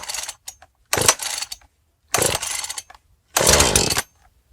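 A Husqvarna 435 chainsaw, left outdoors all night, is pull-started with three separate loud, rasping cord pulls, each about half a second long, with short silences between and no voices.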